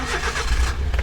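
A Suzuki Every Wagon mini camper van engine, a JDM kei van, starts up while parked, with a short cranking burst settling into a steady low idle close by.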